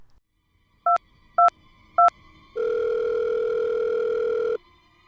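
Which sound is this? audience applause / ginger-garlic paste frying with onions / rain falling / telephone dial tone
telephone dial tone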